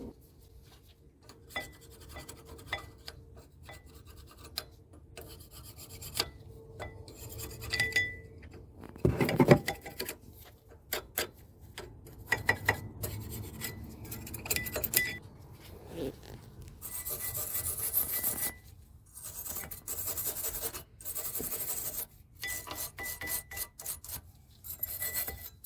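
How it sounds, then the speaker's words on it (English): Rear brake surfaces and shims on a Corvette are scrubbed clean, a steady rasping, rubbing scrape that comes in uneven strokes and bursts, close up and without speech. "So we're going to clean up around the surfaces here and make sure the shims are clean as well."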